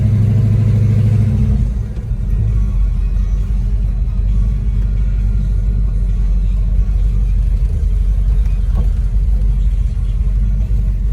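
A 1969 Plymouth Roadrunner, a B-body Mopar, rumbles steadily nearby with a deep low engine drone as it drives and parks, with a brief dip early on and no talking.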